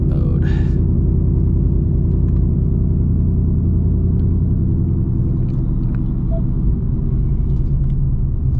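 A heavily modified 800HP Shelby GT350 running on E30 fuel rumbles steadily while driving, a loud, continuous low engine drone that holds throughout with no pauses.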